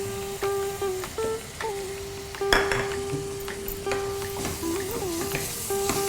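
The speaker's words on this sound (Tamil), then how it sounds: "மசாலாவோட சேர்ந்து அது வதங்கணும்." Boiled sweet potato being stirred into masala in a pan: a steady soft sizzle with scraping stir strokes throughout and a few clinks, with no talking.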